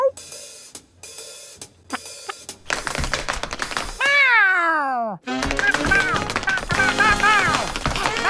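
A cartoon snail gives a drawn-out, bending meow like a cat, loud and close, set between busy clattering, tapping effects and music in an animated show.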